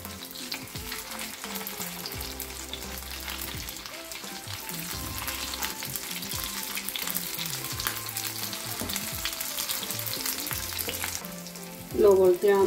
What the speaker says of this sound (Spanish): hasta que no esté bien frito por debajo y doradito